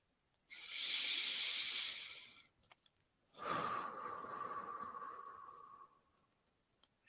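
Slow, deep meditative breathing during a guided abundance meditation: one long airy inhale, a short pause, then a longer steady exhale, close and soft, with no speech.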